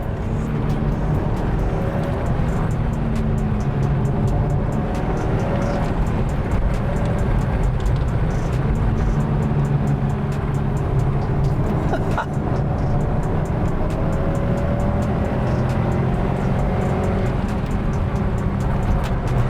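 Subaru Forester STi accelerating, heard from inside as a steady loud engine and road drone that builds through the run, with a faint voice now and then.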